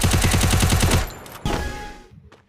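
UMP submachine gun fire from the mobile battle game Free Fire: a rapid, loud burst of evenly spaced shots for about a second, then a sharp single crack followed by fading game effects and a quiet tail.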